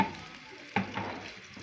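Onion dropped into hot oil in a pan, a faint, soft sizzle with a small stirring clatter partway through.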